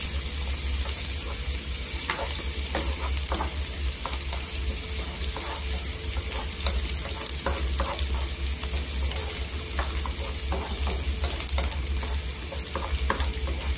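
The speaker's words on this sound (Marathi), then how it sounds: "इथे कांदा आहे ना गोल्डन कलरवर भाजून घ्यायचा." Onions browning to golden in a pan for a dry ghevda bean bhaji, a continuous close sizzle with intermittent clicks and scrapes from stirring, no talking.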